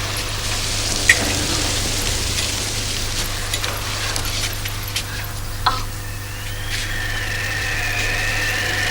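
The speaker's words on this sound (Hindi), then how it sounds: "देखो बारिश होने वाली है।" Steady rain hisses across the whole stretch with a low engine-like hum underneath and a few scattered drips standing out.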